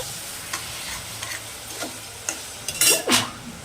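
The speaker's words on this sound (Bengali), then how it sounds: "এইবার আমি নাড়াচাড়া করে চিনিটাকে দিয়ে দিয়েছি ভালো করে নাড়াচাড়া করে" Amra (hog plum) chutney with sugar is stirred in a pan: soft, scattered scraping strokes, quiet at first, then a few louder, closer scrapes near the end.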